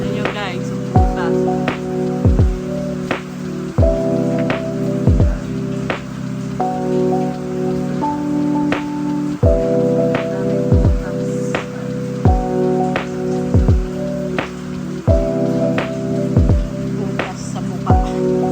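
Steady rain patters on a surface in a home setting, with sharp drips landing at regular intervals over a looping, tonal background hum.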